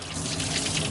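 Water gushes out of a flooded diesel engine intake in a brief, continuous splashing pour, close and fairly loud, with no talk over it.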